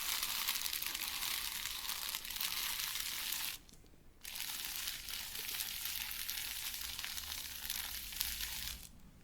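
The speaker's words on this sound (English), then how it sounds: "With the crinkly paper underneath." A towel is handled and shifted on top of crinkly paper, giving a continuous close, soft rustling crackle that breaks off briefly near the middle before resuming steadily.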